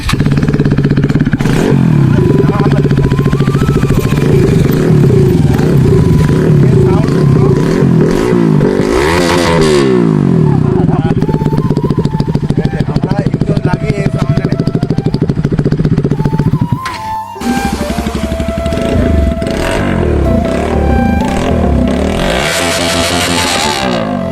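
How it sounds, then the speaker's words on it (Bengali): A motorcycle engine with no exhaust fitted roars loudly up close, revving repeatedly with rising and falling pitch and a raw, rattling tone, briefly dipping before revving again. "এই যে বাইকের সাউন্ডটা একবারটি আমরা শুনবো।"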